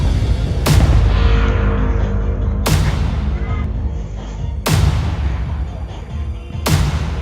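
Four loud, sharp New Year's firecracker blasts boom out about two seconds apart, each leaving a crackling rumble that lingers until the next one.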